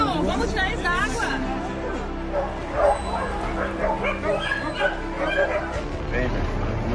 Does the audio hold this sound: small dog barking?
yes